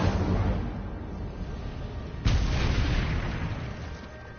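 Single Incendio fire spell blast from Hogwarts Legacy, a sudden booming whoosh that hits midway and trails off over steady game ambience, with no talking.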